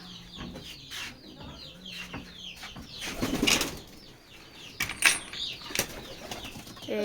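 Pigeons in a loft with chicks make soft cooing and clucking calls, broken by several sharp bursts of flapping wings close by, irregular and moderately loud.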